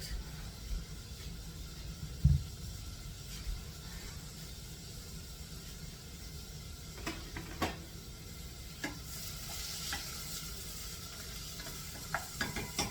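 Food sautés in a very hot pan, a faint steady sizzle with occasional light ticks and stirring clicks, quiet and continuous with no talk.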